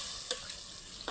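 A spoon stirring bhindi kadhi made with okra in a metal pot, faint scraping strokes over a soft steady simmering hiss, two brief clinks standing out near the start and end.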